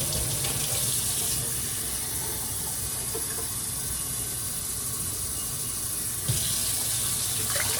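Tap water runs steadily into a vessel for cucumber pickling brine, a constant hissing splash that continues alone throughout with a slight bump near the end.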